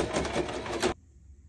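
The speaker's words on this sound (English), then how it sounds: "So clip it and sew it with your sewing machine." A short burst of a sewing machine stitching a bag pocket corner at speed, a dense whirring stitch that stops abruptly after about a second.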